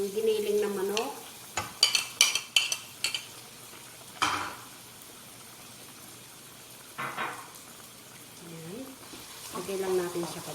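Ground chicken sizzles in a frying pan while a utensil scrapes and clinks against the pan in a quick burst of stirring, then a few separate strokes. A person speaks over the steady frying.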